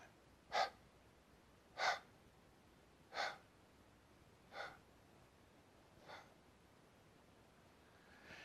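Slow, audible breaths are pushed out during a breathing exercise, five soft exhales spaced about 1.3 seconds apart and growing gradually fainter, close and quiet with no talk.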